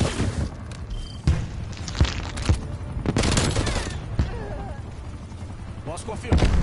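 Bursts of gunfire and booms from Call of Duty: Black Ops Cold War on PlayStation 5 pop out over a busy, noisy background, with excited voices talking over the shots.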